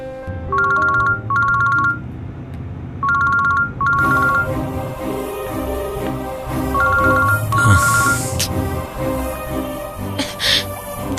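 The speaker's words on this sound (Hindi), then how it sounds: "उसे फोन कर रही हूँ, लग ही नहीं रहा।" Bursts of an electronic ringtone repeat in short paired chimes, then continue over a musical background with a few faint vocal sounds; nobody picks up.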